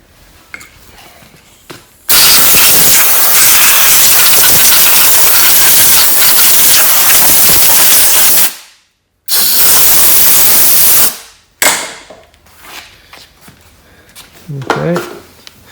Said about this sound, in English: take a compressor, blow air everywhere